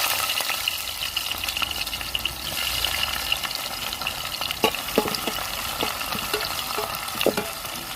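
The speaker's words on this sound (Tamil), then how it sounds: "எண்ணெய் சூடாயிருச்சு கறி மசாலா போட்டு கொடுக்கணும் வெங்காயம் பச்சை மிளகா போட்டுக்கணும்" Onion and green chili fry in hot oil with curry masala for a goat bone curry, producing a continuous loud sizzle with occasional scraping taps of stirring and no voices.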